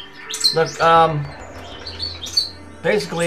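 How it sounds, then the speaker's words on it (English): Birds chirp and sing outdoors in bright, high repeated calls, near and fairly loud, weaving between and under a man's speech. "the birds might be a little noisy, sorry, nothing I can do about that."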